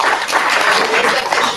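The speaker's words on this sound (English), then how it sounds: "applause, please." Audience at an October medical meeting applauding, a dense, loud burst of clapping from many hands filling the room for a moment.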